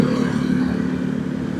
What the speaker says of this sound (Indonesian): banyak motor yang pakai knalpot brong ya teman-teman ya